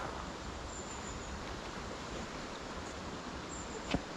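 Water on the River Wansbeck, running deep and not over boulders, surges in big waves with a steady, dense rushing roar that holds evenly throughout, with no voices.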